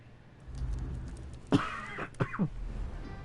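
A person gives two or three short, rough coughs that sound like throat clearing, close to the microphone, against a quiet low background hum.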